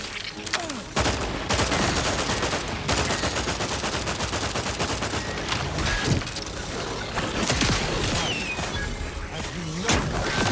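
Rocket launcher and heavy weapons fire in The Outer Worlds 2 during a firefight, a dense continuous barrage of blasts and crashes with brief louder bursts, loud and close throughout.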